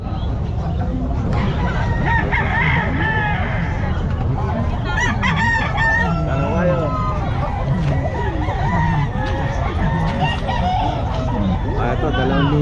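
Roosters crow and chickens cluck among caged birds at the Calumpit poultry and pet market, with repeated crows near and far over a steady hubbub of people talking.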